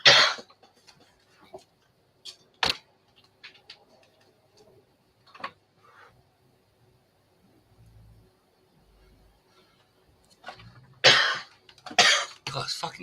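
Several sharp, dry coughs burst out in separate fits, a couple early on and a harsher cluster near the end, with quiet stretches between.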